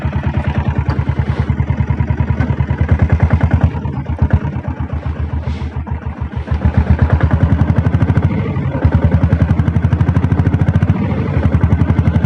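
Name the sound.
Royal Enfield Bullet diesel motorcycle engine running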